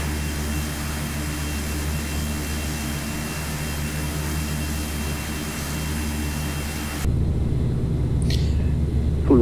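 Steady broadband whine and rumble of a Carenado Fokker 50 turboprop spooling up for takeoff in a flight simulator, continuous and even, shifting to a louder, heavier engine roar near the end.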